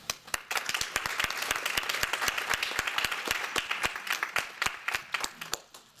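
Audience applause welcoming a speaker at a religion and pop culture colloquium, a steady run of many overlapping hand claps at close-to-moderate distance, loud and continuous for several seconds with no talking.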